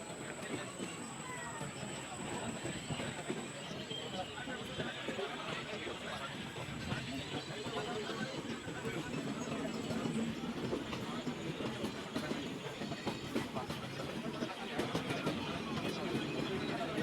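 A train approaches Hubballi Junction with a continuous rumble and rhythmic clickety-clack of wheels over rails, close and steady throughout, with people talking over it.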